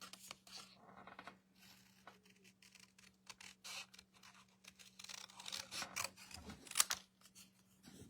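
Scissors cutting a piece out of handmade card stock: a long series of soft, close snips and paper rustles in irregular rhythm over a faint steady hum, with no talking.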